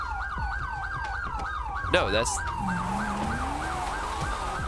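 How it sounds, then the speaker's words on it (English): Wailing police sirens in GTA5 with the LSPDFR mod, a yelp cycling rapidly and continuously at close range, with a brief burst of other noise midway and a few words spoken. "Are those our sirens?"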